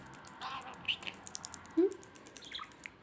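A pet bird makes soft, brief chirps and tweets close by, mixed with small tapping and pecking noises at a paper napkin, with no speech over them.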